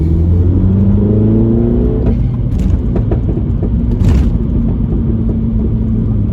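A 2016 F56 Mini John Cooper Works engine revs hard and accelerates, rising then shifting with a loud, close rumbling roar that pulses through the gears.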